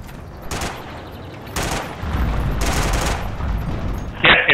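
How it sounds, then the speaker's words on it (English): Bursts of gunfire in Forgotten Hope 2, a World War II battlefield game, crack out in three dense volleys spaced about a second apart, loud and close, followed by a sharper burst at the end. "Shooting at me again."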